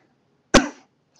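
A single sharp cough bursts out at close range, loud and abrupt, then fades quickly into near silence.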